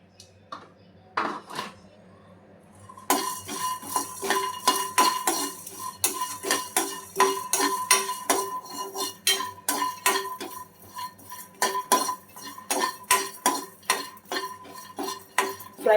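Dry coconut stirred in a pan for drumstick curry with a metal spoon, giving steady close clinks and scrapes against the pan after a brief quiet start, repeated in an uneven rhythm.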